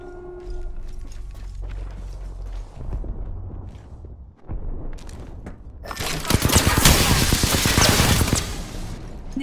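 Rapid automatic gunfire from Apex Legends bursts in loudly over the last few seconds, following quieter footsteps and mechanical game sounds, dense sustained volleys with sharp repeated cracks.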